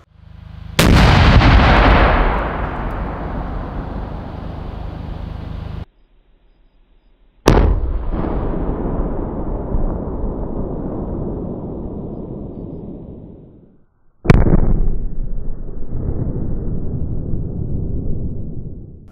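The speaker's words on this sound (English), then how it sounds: "a C4 is really fast explosive" Three loud, sharp blasts from C4 charges set against a concrete wall, each an instant crack that rumbles and decays over several seconds, with short silent gaps between detonations.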